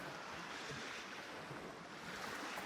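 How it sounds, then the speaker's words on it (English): Ocean waves wash onto an Alaskan beach as a faint, steady surf roar with a windy hiss, distant and unbroken, with no voices. "Listening to the waves right there on the beach."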